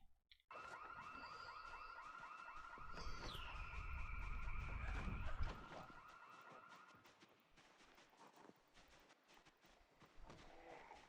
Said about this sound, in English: That was a very special anti cheese burglar alarm.